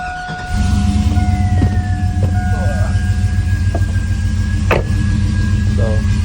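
A GMC Sierra truck engine with a stock cam and long-tube headers idles steadily after starting up. It gives an even, loud, throbbing low rumble, with a few faint clicks and squeaks over it.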